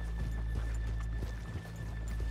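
In Red Dead Redemption 2, hooves clip-clop at a walking pace while a horse whinnies, with a steady low hum underneath and no talking.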